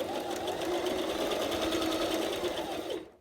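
Sewing machine running forward as it stitches a sleeve into a garment, with a continuous fast mechanical whirring hum that holds steady before stopping abruptly near the end.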